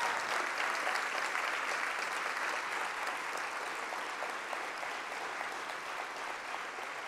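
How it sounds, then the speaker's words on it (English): Steady, dense audience applause for Secretary John Kerry at an ocean and climate event, a large crowd clapping continuously and evenly throughout with no break. "Can we give him a round of applause for the work he's done in Paris?"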